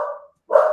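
A pet dog barks nearby during an online community standup meeting: two short, loud barks separated by a brief silence, with no talk over them.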